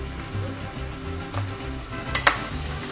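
Curry leaves and baby potatoes fry in hot oil, a close, continuous sizzle broken by a few sharp clinks and scrapes of stirring.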